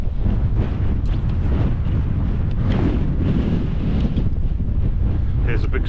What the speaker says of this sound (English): As you can hear from the wind